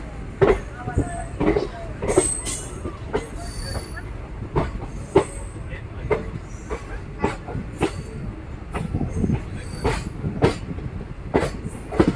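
A train pulling out of Surathkal station crosses onto another track, wheels clacking in a steady run of sharp knocks over a continuous rumbling roll, with occasional squeals.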